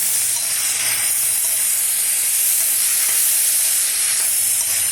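A loud, steady sizzle and hiss of mango pieces cooking in a hot pan on low heat continues without a break, close up.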